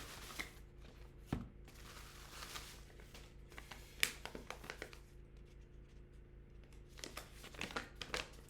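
The plastic wrapper of a fan-made Magic the Gathering card pack is torn open and handled, giving a quiet run of close crinkles, rustles and small crackling snaps, with no talking.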